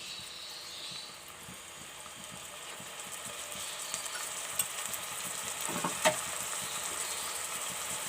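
Quiet sizzle of turnip sabzi ingredients lightly frying in a pan, with soft stirring scrapes and a faint crackle running steadily at low volume.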